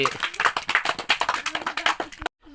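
Children clap together in a quick, steady rhythm of sharp, close handclaps that run evenly for about two seconds and then stop abruptly.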